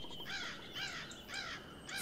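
Crows caw in the pirate video game Pixel Piracy, giving four evenly spaced harsh calls at a moderate distance over a faint background, with no talking.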